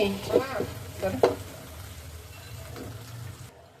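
Chicken cooking with spices in a wok as the oil separates, a low steady sizzle with a couple of sharp stirring scrapes near the start, close by and fairly quiet.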